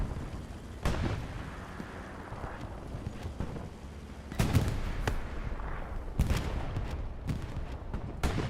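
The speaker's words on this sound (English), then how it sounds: "Artillery strikes called in on the front line." Artillery strikes land in the multiplayer war game Hell Let Loose, with several heavy booming impacts over a continuous rumbling battlefield din, some blasts louder and closer than others.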